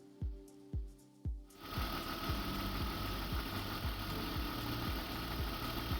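A BMW E38 728i with the M52 engine and a long-cranking fault turns over in three slow heavy strokes, then catches and runs at a steady, fairly loud idle with a rhythmic pulsing knock, close up and without talk.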